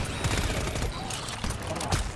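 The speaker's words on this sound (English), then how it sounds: "All I hear in the distance is gunfire." Far-off bursts of rapid gunfire echo through the video game GTFO, a muffled continuous rattle with a few sharper shots standing out, plus faint voices underneath.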